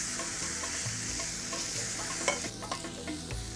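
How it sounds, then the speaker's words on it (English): Spice paste with lemongrass frying in a pan, a steady sizzle with intermittent stirring scrapes, close and continuous with no talk. "So what does frying do? Well, it releases the aromatic oils in the spices and lemongrass."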